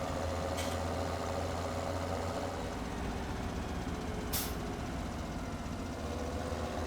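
Continuous low rumble of a tractor engine idling in the farming game Farming Simulator 2017, steady and dense throughout, with two brief hissing bursts.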